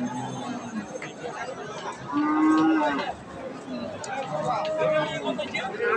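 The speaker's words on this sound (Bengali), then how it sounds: "এটা একটা একবারে ক্রস জাতের হাড্ডিসার গাভী।" Cattle moo at a livestock market, including crossbred cows, with a long loud low moo midway and another fainter one later, amid people chattering and crowd murmur.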